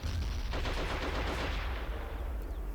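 Sustained machine gun fire from an M50 cal in a video game, a dense continuous burst of rapid shots that runs loud and unbroken for the whole stretch, with no talk over it.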